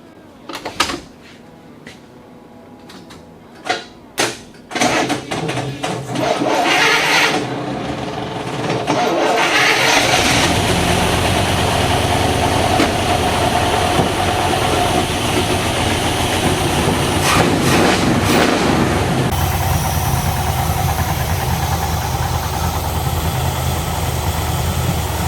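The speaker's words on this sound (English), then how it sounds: "Let's fire this beast up." A 1974 International Travelall's engine starts after a few clunks and door-like knocks, cranks briefly, then catches and settles into a loud, steady rough idle that runs throughout.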